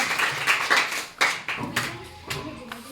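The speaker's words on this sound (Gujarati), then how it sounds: "જોરદાર તાળીઓના ગડગડાટથી વધાવી લો" Hands clap in uneven bursts of sharp, close slaps, a small group applauding during a classroom quiz game.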